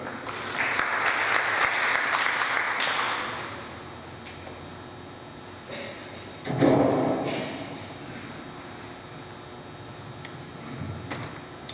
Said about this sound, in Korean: 모두 박수로 부탁드립니다